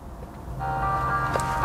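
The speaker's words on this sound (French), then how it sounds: "Et on a de la musique dans la voiture" Music playing through the audio system inside a 2022 Renault Mégane E-Tech electric car, fading in after a moment and continuing steadily with a sustained tonal melody.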